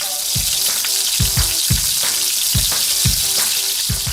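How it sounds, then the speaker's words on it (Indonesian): Steady crackling sizzle of seasoned chicken frying in hot olive oil, close and continuous, with a few louder pops and spits scattered throughout. "ayam yang tadi sebelumnya udah dibumbuin tadi kita goreng"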